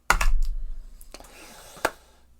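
A Realistic SCT-25 stereo cassette deck clunks as its tape is ejected: a sharp mechanical snap followed by a few lighter clicks and a final click near the end, close-up in a quiet room.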